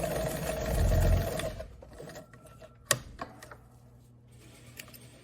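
A sewing machine stitching a fabric waistband on wide-leg pants, a short burst of fast whirring stitches followed by quiet clicks and small handling taps.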